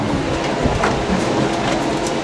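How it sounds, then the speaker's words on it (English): Continuous rumbling and rattling of a tram car descending inside the Gateway Arch, a loud steady roar with faint rhythmic clatter, no voices. "we're getting back in the tram car to head down"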